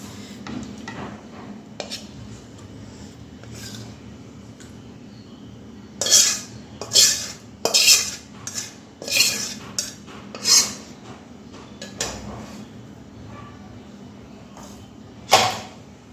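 Pan of pabda fish bhuna lifted off a stove: a cluster of clanking metal knocks and scrapes of pan and utensils in quick succession, then one last clink after a pause.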